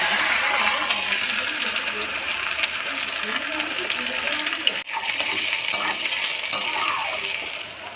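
Onions fry in hot oil with bay leaf in a home kitchen, making a steady, close hissing sizzle with one sharp metallic clink midway and a faint voice in the background.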